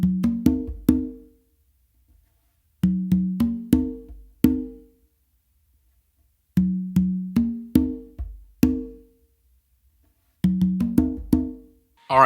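Conga drums play a funk a caballo fusion pattern in short bursts of quick open and muted slaps, several strokes at a time, separated by silent pauses; played close and alone.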